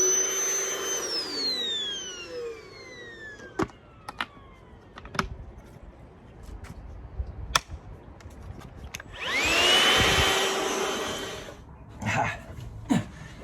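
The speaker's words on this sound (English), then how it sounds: "I'm going to suck all the crappy rust and everything out of there with this." A Milwaukee handheld vacuum sucks rust and dirt from the rusty top edge in the back of a van, giving a rising whine, steady suction and a louder roaring burst midway, with sharp knocks and rattles of debris throughout.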